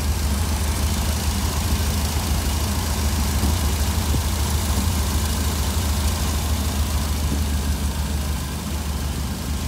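A 1966 Cadillac's 7-liter V8 with a Holley Sniper fuel injection and a faulty idle air control idles close by, a dense, continuous low rumble with a slight dip in level near the end.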